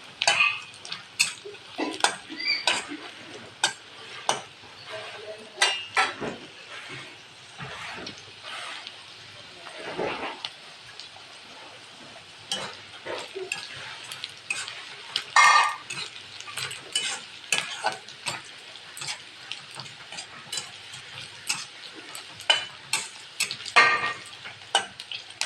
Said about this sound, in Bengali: পেঁয়াজগুলো সুন্দর ভাজা হয়ে গেছে